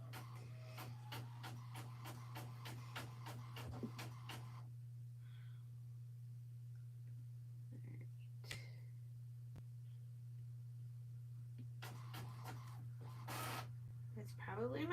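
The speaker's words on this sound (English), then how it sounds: "Just ignore the sound of the printer there." A home printer ticks rapidly in quick even bursts over a constant low hum, falls quiet for several seconds, then resumes its clicking; faint and in the background.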